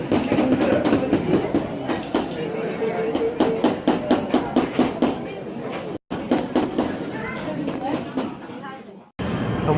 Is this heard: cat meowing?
no